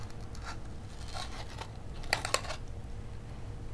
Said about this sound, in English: So step 3 would be to take your scissors and put a hole